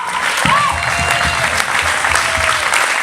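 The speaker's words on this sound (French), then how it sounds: "Applaudissez-vous très très fort." Audience applause in a small hall of roughly a hundred people at a benefit evening, steady and fairly loud clapping filling the whole moment with a few scattered cheers.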